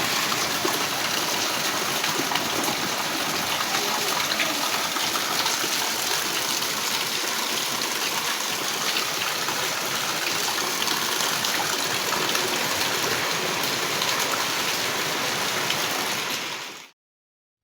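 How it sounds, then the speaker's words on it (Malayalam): Heavy rain pours in a yard with water gushing and cascading, forming a dense, steady roar that holds evenly before cutting off abruptly at the end. "നല്ല മഴയോ മഴ മഴ മഴ മഴ മുറ്റത്ത് ഇതാ വെള്ളച്ചാട്ടം"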